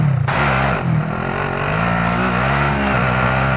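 A car engine in the video game Blood Money revs and drones loudly and steadily as the car pulls away and drives, with no talk over it.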